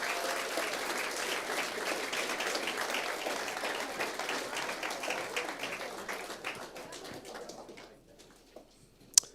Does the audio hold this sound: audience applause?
yes